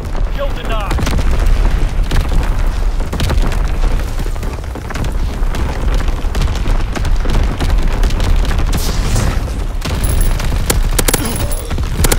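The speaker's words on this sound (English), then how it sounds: "Incoming enemy artillery. Get to cover." Enemy artillery in Call of Duty WWII pounds the area with continuous booming explosions and crackling bursts, loud and close, layered over a dense wall of battle noise.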